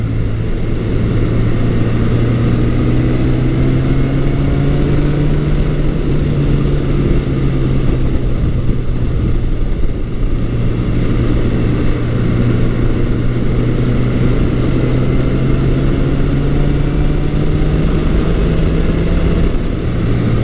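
A Yamaha XS1100 motorcycle's 1100cc air-cooled, 8-valve four-cylinder engine drones steadily and loudly for the whole stretch, holding a deep, even note with slight pitch drifts.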